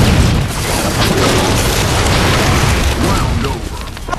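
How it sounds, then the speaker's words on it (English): Rocket launcher blast in the Halo 4 video game, a loud rumbling explosion that fills the whole clip, with excited voices talking over it. "I shot this guy from the left through the rocket launcher"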